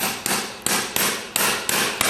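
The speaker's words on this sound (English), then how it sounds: "I'm using a BH4 nail, flat side to the outside, and parallel the outside of the hoof wall." Hammer driving a BH4 horseshoe nail into a horse's hoof wall: six sharp, evenly spaced metallic blows with ringing decay, close and loud, with no voices.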